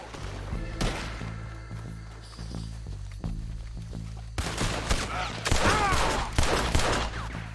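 Gunfire in Red Dead Redemption 2, with sharp shots and volleys scattered across a shootout, some single and some clustered rapid fire, loud and close over a low droning game background.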